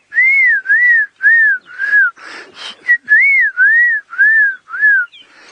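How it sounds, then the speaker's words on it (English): A black-crowned tchagra on a sunrise safari drive gives a series of clear, loud whistled notes, each slurring up and down, repeated rhythmically about nine times with a brief rougher burst in the middle. "A lovely sound of the black-crowned chagra."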